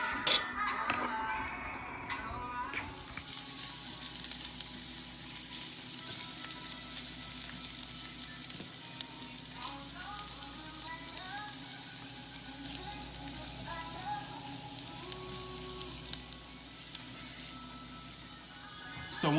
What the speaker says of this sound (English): So once we've toasted our garlic